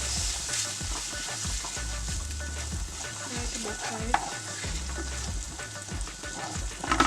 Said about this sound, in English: Crushed garlic. Fry it up just a bit.